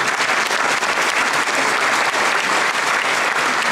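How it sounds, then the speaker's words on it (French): A hall audience at a mayor's New Year ceremony gives steady, dense applause for a young equestrian medal winner, the clapping full and continuous throughout without letting up. "Et donc on peut l'applaudir."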